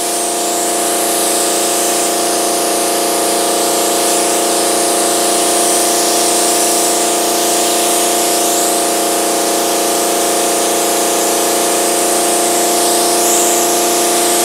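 A sprayer lays a heavy mist onto a mold for a Kevlar fuel tank, producing a loud, steady hissing spray with a constant mechanical tonal whine from the pump, unbroken and close with no talk.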